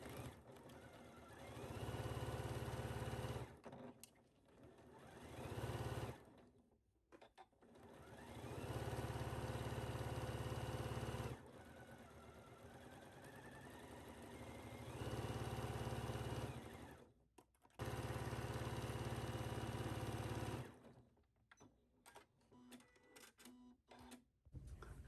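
A sewing machine stay-stitches caftan pattern pieces in several loud, fast whirring bursts of a few seconds each, separated by short pauses and quiet handling sounds, with no talk.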